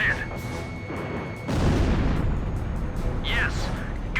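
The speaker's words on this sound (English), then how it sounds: "Missile hit!" Missile striking an enemy aircraft in Ace Combat 5: a sudden heavy boom that swells into a long rumbling roar over jet engine noise, with a radio voice talking earlier and later.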